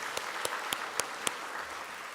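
A church congregation at a Sunday morning service claps together, producing a steady wash of applause broken by a handful of sharper, louder claps at an even, unhurried pace.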